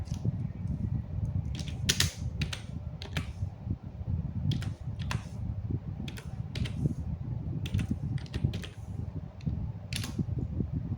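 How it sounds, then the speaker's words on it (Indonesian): Quiet, irregular key clicks from someone typing a restart command on a computer keyboard, scattered taps over a steady low hum of a fan. "apabila saya di sini mengetik restart"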